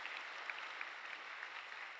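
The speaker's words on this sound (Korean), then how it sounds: "우리 다시 한번 하나님께 영광 돌리고 감사의 박수 드리겠습니다" A church congregation claps steadily after a choir's Christmas hymn, a dense, even wash of applause from a large crowd, heard at a distance with no voices over it.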